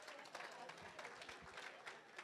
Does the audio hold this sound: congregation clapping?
yes